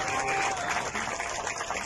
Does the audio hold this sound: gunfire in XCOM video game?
no